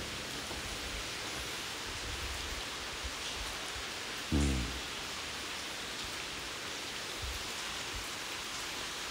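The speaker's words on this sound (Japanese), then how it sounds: "雨すごい" Heavy rain pours at Tonoyama Tunnel in Kanagawa at night, a dense continuous hiss that fills the scene, broken once midway by a short dull thump.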